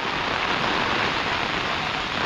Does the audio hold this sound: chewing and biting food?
no